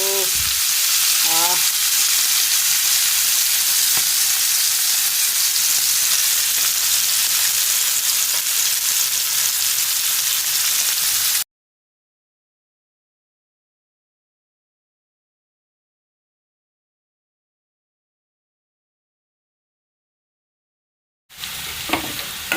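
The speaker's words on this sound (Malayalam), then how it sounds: "ഉള്ളി നല്ല വഴണ്ട് വരുന്നുണ്ട്" Onions sautéing in oil in a hot frying pan: a steady, close hiss of sizzling for about eleven seconds, with a few faint stirring clinks, then a long silence before the sizzle returns.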